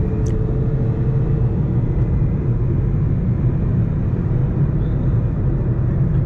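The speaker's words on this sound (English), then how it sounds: "you can hear the road noise" Steady low rumble of road and tyre noise inside a moving Toyota Fielder wagon, a constant broadband drone with no voices, continuous and moderately loud throughout.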